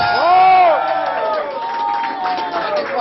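A live concert crowd cheers for the band, with loud shouts and whoops rising at the start over a general roar of audience noise that carries on throughout.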